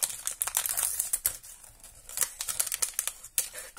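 A surprise Minion packet is torn open and crinkled, with irregular close rustling, ripping and crackling plastic bursts, no voices.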